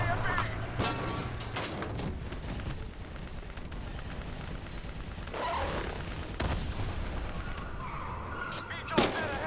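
A mounted gun fires in bursts in Call of Duty Black Ops III, amid booming explosions, with several louder cracks toward the end. A voice talks over much of the gunfire.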